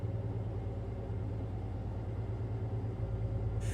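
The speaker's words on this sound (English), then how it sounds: "this X15 engine sound is just, mwah, it's beautiful" An X15 engine in a Freightliner Cascadia in a truck-driving simulator gives a steady, deep, droning rumble with a low, regular pulse, even and unbroken throughout.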